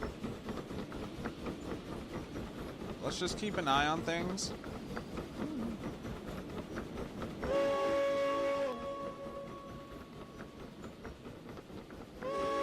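A steam locomotive hauling an oil train in the railway simulator Derail Valley rumbles along steadily, with a loud whistle blast partway through and another near the end, while someone talks over it.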